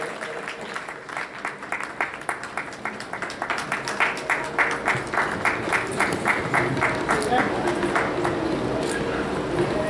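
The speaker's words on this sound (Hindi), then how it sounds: "मैं चाहूंगा जोरदार तालियों से आप उनका अभिनंदन करें।" Audience applause at an award ceremony for a satsang grand finale, rhythmic clapping building steadily in unison and growing louder, with crowd murmur underneath.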